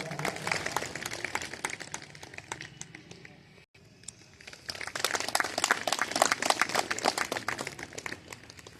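A crowd claps loudly and continuously, the applause dipping briefly midway before swelling again into dense, rapid clapping.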